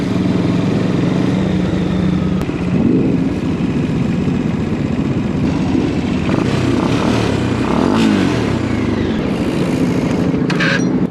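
A Bajaj Dominar 400 motorcycle engine drones loudly and steadily while riding, close up, with a constant rush of wind and no talking.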